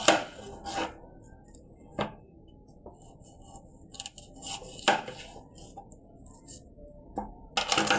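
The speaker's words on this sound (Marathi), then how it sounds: "मी ते आता कांदा घेतला आणि मी त्याला आता कापते" A knife cuts through an onion in a home kitchen, giving scattered sharp taps and clicks against a board at an uneven pace with quiet gaps between them.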